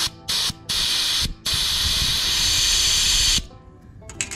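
Compressed air blasting through an oily propane line from a Mr. Buddy heater: two short hissing bursts, then a long steady loud spray lasting about two seconds before cutting off, close and alone.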